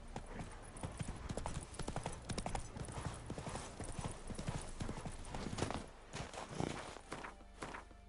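A horse's hooves clip-clop in a rhythmic walking pace through The Witcher 3 video game, close and distinct, with speech briefly in the background.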